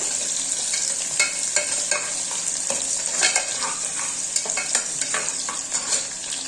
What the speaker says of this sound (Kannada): ಈರುಳ್ಳಿ ಸ್ವಲ್ಪ ಚೆನ್ನಾಗಿ ಫ್ರೈ ಆಗಬೇಕು